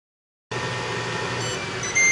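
A Ninja Foodi XL Pro Air Oven heating a frozen pizza starts up after a moment of silence, then runs as a steady fan whir with a faint high tone, growing slightly louder near the end.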